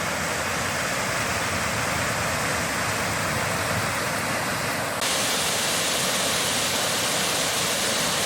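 Whitewater Dash waterfall in the Lake District roars as a steady, dense rush of falling water, loud and close, continuous throughout with no voices.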